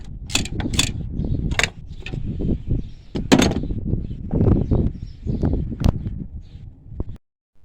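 A wrench works loose the bolts on a Ford Crown Victoria police interceptor front strut under the hood, producing close ratcheting clicks and metallic clanks in irregular bursts, with no talking.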